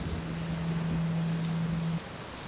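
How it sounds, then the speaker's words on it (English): Rain falls steadily in the video game Outer Wilds as an even broadband hiss, with a low tonal hum underneath that stops shortly before the end. "It's a good thing I never get bored of rain,"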